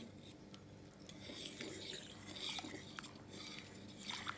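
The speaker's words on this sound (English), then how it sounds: "I'm just giving it one last stir." A spoon stirs washed rice in a cooking pot, producing faint, close scraping and clinking of utensil against metal in irregular strokes with no talking.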